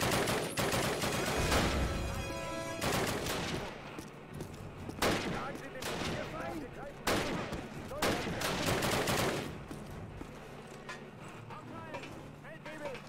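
MG42 machine-gun fire in the Call of Duty Allied campaign V-2 Rocket Site mission: loud bursts of automatic gunfire with scattered single shots and other battle sounds, while voices speak over the action.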